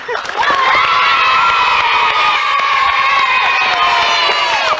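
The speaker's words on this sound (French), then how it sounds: "On les applaudit." A TV studio audience, including many children, cheers, shouts and whoops loudly in a sustained roar, with some applause mixed underneath.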